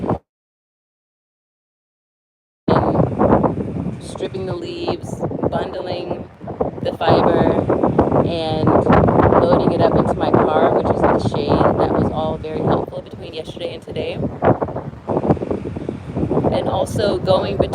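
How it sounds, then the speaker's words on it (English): Heavy wind buffeting the microphone in an organic broom corn field, a constant loud low rumble with voices faintly audible underneath after a brief silent start. "it's very windy, which is really good for, not so good for the sound"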